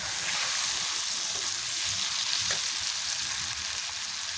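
Tomatoes tossed into hot oil with turmeric for a soybean kofta curry, giving a steady, close, loud sizzle and spatter that holds evenly throughout with no talking.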